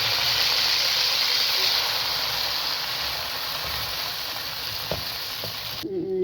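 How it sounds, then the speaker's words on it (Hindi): Cardamom pods sizzle in hot oil in a pan on a stovetop with the flame switched off, making a steady, close hiss that eases slightly before a sharp clink and abrupt cutoff at the end. "ये देखें कि इलायची जो है वो हो गई है गरम ऑयल में।"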